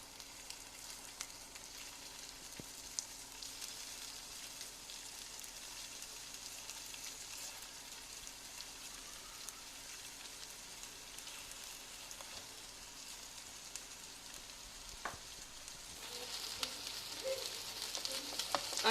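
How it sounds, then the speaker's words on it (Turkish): Köfte meatballs made from sacrificial lamb or beef fry in heated oil in a pan with a steady, even sizzle, crackling softly and continuously, with a few sharper pops and a slight swell at the end. "Arkadaşlar köftelerimizi bu şekilde çevirerek pişiriyoruz."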